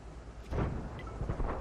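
Distant artillery shells exploding in World of Tanks, heard as muffled low booms and rumbling impacts, the loudest bursts arriving after a brief quiet start and recurring through the short stretch.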